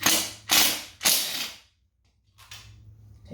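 A ratchet wrench loosening the 8mm exhaust pipe bolt on a Yamaha YZ250X dirt bike, with three quick close ratcheting sweeps, a short pause, then a fainter fourth click run.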